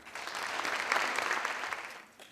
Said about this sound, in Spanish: recibirlo como ustedes saben que se merece y no les costará mucho trabajo, con un gran aplauso.